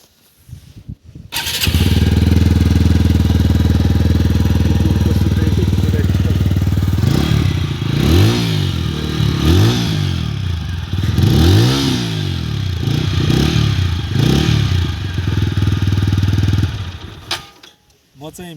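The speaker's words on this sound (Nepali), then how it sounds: "अब बाइकको चाहिँ यो एक्जस्ट चाहिँ मिठो लाग्छ मलाई, धेरै लाउड पनि छैन धेरै कम पनि छैन है।" A TVS Apache RTR 200 BS6 motorcycle, about three years old with over 23,000 km, starts up and idles loudly and close with a steady exhaust burble, then takes several sharp throttle revs before settling back and cutting off; a voice is faintly present.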